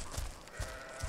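Sheep in the video game Overlord give a few short, faint bleats spaced roughly evenly over a low, hazy game background.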